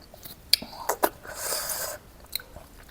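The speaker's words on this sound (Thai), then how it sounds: "แต่ว่าต้องเคี้ยวให้ละเอียดนะ" Someone chewing food up close, a few crisp bites and soft wet crunching squishes in irregular rhythm, fairly loud with no speech.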